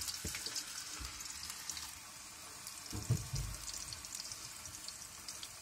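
Potato pieces fry in oil in a pan while cooking in a van, giving a steady soft sizzle with a few louder crackles and clatters, heard alone.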